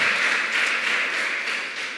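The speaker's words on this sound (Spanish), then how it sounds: "Dale un fuerte aplauso al Señor" Applause in a church congregation, a dense, steady wash of clapping filling the room evenly for a couple of seconds, moderately loud with no voices standing out.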